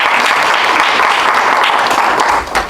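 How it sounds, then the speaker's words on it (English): An audience at a poetry night gives a round of applause, loud and dense clapping that fills the whole stretch and begins to thin out only at the very end. "Can everyone please give her a round of applause?"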